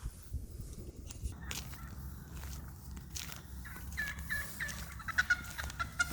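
Wild turkeys call in a forest, faint high clucks and gobble-like notes coming from some distance over rustling leaves and footsteps, with a few sharper calls toward the end.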